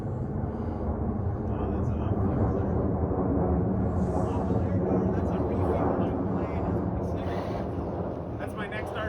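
Jumbo jet passing overhead with a loud, continuous broadband roar that stays steady throughout, while people talk under the noise.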